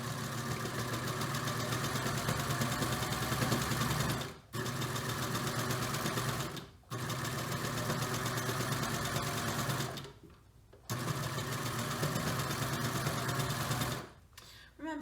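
A sewing machine stitches sweater knit fabric in steady, even bursts, with its motor running continuously for several seconds at a time and stopping briefly three times between runs.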